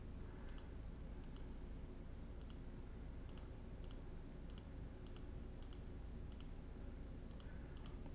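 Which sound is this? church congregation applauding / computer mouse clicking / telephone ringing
computer mouse clicking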